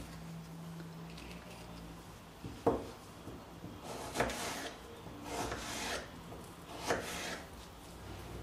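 Knife cutting salad ingredients on a board, heard as a few scattered scraping, rasping strokes and soft knocks at uneven intervals, fairly quiet and close, with no talk.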